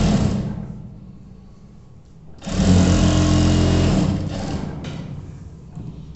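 A sewing machine stitches a trouser fly in close, steady runs with a dense mechanical whir that stops and restarts, with a louder, faster burst midway.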